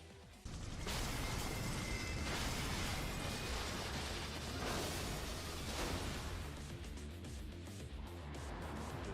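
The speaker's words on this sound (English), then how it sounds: "Non-lethal explosions." A loud explosive burst in a Yakuza video game erupts and rolls into a dense, crackling rumble of debris and mechanical clatter that stays heavy throughout.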